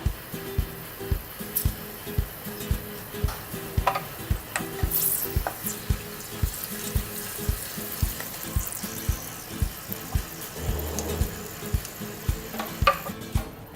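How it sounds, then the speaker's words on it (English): Whole garam masala, cardamom, cloves, cinnamon and bay leaf sizzle in hot mustard oil in a karai, a steady crackling fry punctuated by regular rhythmic knocks of a spatula stirring, close and clear with no talking. "Add all the whole garam masala, cardamom, cloves and cinnamon and bay leaf to the karai."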